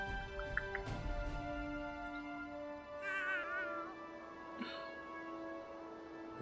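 Cat meowing in South Park: The Fractured But Whole, a few drawn-out, wavering meows that carry clearly over the game's steady background music, with no talk.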